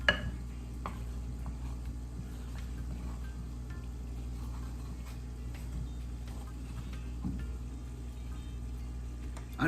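A spoon works through a Jamaican saltfish fritter batter in a bowl, a faint soft scraping and squelching repeated at a low level over a steady kitchen background hum.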